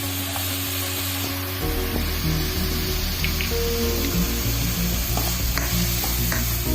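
Green chillies and onions sizzle in a pan: a steady frying hiss with scraping stir strokes and occasional clinks, close and continuous, with a low hum beneath.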